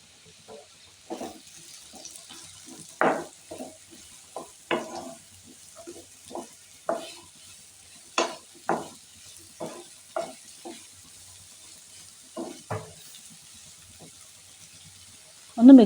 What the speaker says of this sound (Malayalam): ഇതിലേക്ക് സവാള അരിഞ്ഞത് ചേർത്ത് കൊടുക്കാം.